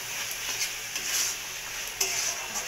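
Dried fish shutki with chilli powder being stirred in a pan, a steady hiss of frying under soft scraping strokes and a light tap of the spoon near the end, close and without speech.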